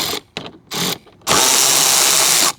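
Under a wrecked Honda Civic, a power tool works car bolts loose: two short bursts, then a sustained loud whirring run of about a second, close by.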